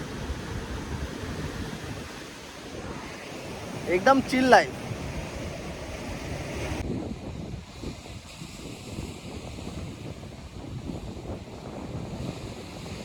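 Sea waves wash onto a Konkan beach in a steady, rushing surge, roughened by wind buffeting the microphone, while a person speaks briefly nearby.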